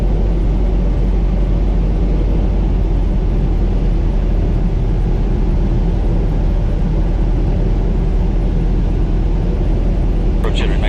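A Piper Cherokee 140 light aircraft engine drones loud and constant from inside the cockpit during a test flight after work on cylinders 1 and 3, a steady unbroken roar with no pause.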